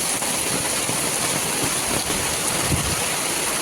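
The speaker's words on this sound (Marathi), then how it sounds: "एवढा पाऊस होतोय की मी एवढ्यातच भिजले" Heavy rain pours down in a dense, continuous roar of broadband hiss, loud and close, with no voices.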